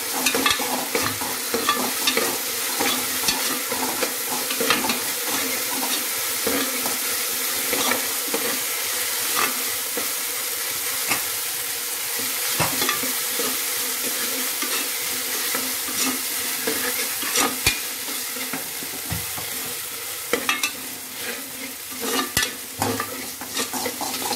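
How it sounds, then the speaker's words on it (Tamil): Curry leaves and chillies crackle and sizzle in hot oil while being stirred in a pan for coconut milk rice, a continuous bright fry with frequent clicks of a spoon against the pan. "கருவேப்பில, மிளகாய் ரெண்டுத்தையும் ஆட் பண்ணிக்கோங்க இந்த ஸ்டேஜில்."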